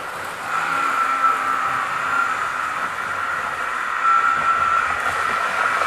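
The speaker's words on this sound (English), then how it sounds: "My favourite train of mine, and she comes around at great speed." A model railway train runs around its track at speed, giving a steady whirring rumble of wheels and motor that swells slightly as it passes close by, with no talking.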